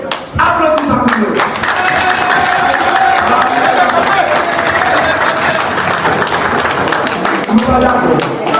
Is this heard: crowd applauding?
yes